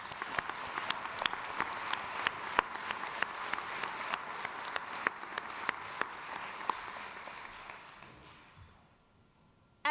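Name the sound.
audience applause at graduate commencement ceremony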